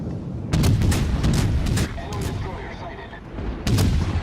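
Naval guns boom in World of Warships Legends aboard the cruiser USS Marblehead, with repeated heavy shots rolling over a busy battle soundscape, loud and close.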